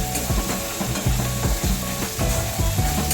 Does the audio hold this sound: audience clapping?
no